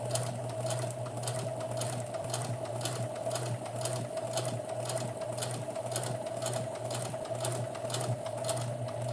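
A sewing machine stitches fabric in a steady, fast mechanical rhythm with a constant whirring hum, running close and alone without pause.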